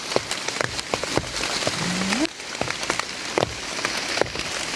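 Rain falling steadily in a forest during mushroom gathering, a dense patter of drops on leaves and ground with occasional louder close hits, no talking.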